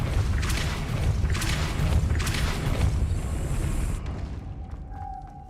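Depulso spell cast in Hogwarts Legacy, heavy booming magical blasts with rumbling impacts that end in a short high ring and quiet tail.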